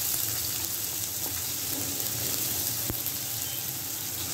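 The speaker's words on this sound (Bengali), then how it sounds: "বেশ খানিকটা পেঁয়াজ কুচি দিয়ে দিলাম, একটু নরম করে নেব পেঁয়াজ কুচিগুলা" Chopped onions fry in mustard oil in a wok, giving a steady, close sizzle that holds at an even level throughout with no talking.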